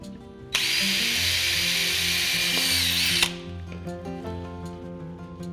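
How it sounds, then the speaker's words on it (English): A power drill whirs loudly for about three seconds, bores steadily through a cleat drilling a pilot hole for a fireplace mantel, then winds down and stops while music plays underneath. "now I can take my drill and drill a countersink hole or a pilot hole"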